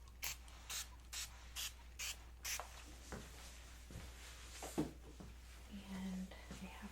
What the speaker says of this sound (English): now I'm going to go ahead and put the heat protectant on that whole section of your hair